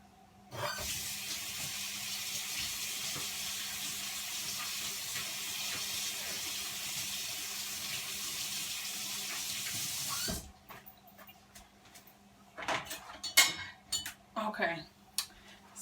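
Water runs from a kitchen sink tap to wash gloved hands for about ten seconds, a steady hiss that stops abruptly. Then come scattered clatters and handling noises.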